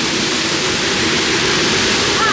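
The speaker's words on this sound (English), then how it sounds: "That's cool, the water effect, isn't it?" Rushing, splashing water effect on the Beyond Vertical themed roller coaster at Europa Park, a steady broadband wash filling the whole moment with people talking faintly underneath.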